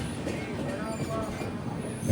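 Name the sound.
train pulling into Bhopal Junction platform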